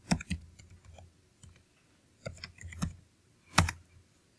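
Sparse bursts of crisp keystrokes on a computer keyboard while commands are typed at a server console, with separate clicks and short clusters spaced by brief quiet gaps.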